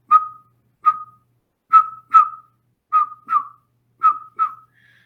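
A person whistles an imitation of a northern pygmy owl call: short single hoots, some in pairs, evenly spaced in near silence.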